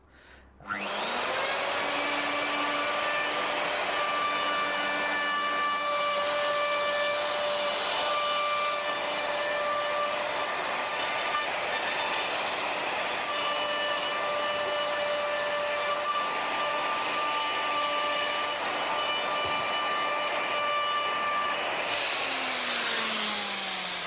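A router cuts a recess in a flatpack kitchen worktop with a steady, loud, high whine that stays even for over twenty seconds before spinning down at the end. No one speaks.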